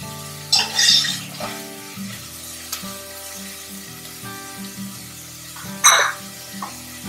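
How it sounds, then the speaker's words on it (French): Food is stirred in a pan with a spoon or utensil, with scraping clinks and light sizzling over several seconds, close by, with a couple of sharper knocks against the pan. "il faut que je remue pendant 4 à 5 minutes"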